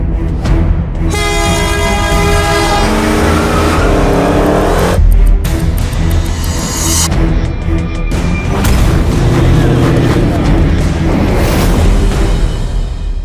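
Hemi-powered cars race on Woodward Avenue, a loud, sustained engine roar with a booming rise and rushing passes, filling the whole stretch.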